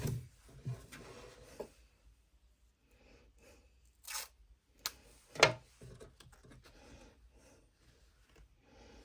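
Tape is ripped and pressed down onto fabric in an embroidery machine hoop, with a few sharp tearing bursts and soft crunches between quieter rustling and handling noises.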